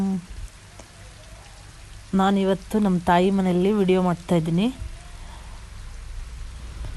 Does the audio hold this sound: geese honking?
no